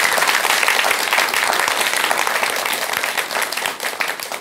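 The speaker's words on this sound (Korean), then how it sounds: "이 글이 마음에 드신다면 박수 한번 부탁드릴까요?" Dense, steady audience applause from a seated crowd at a talk event, loud and continuous before thinning slightly toward the end.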